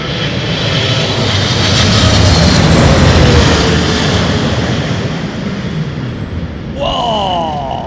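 An Airbus airliner passes at London Heathrow Airport with a loud, close engine roar that swells and then slowly fades. A faint whistling tone rises near the end.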